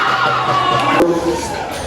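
A school crowd at a student council debate cheers and shouts loudly in a dense burst, with children's voices prominent and a brief whoop.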